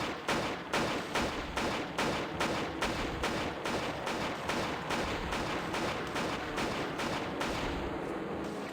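Steady rapid gunfire from an enemy in Turok Evolution, a run of regularly spaced shots continuing for several seconds at fairly close range, with no one talking.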